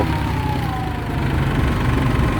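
A four-wheel-drive diesel vehicle's engine runs in a steady, close, low-pitched drone with a faint tonal whine riding on top, heard alone without talk.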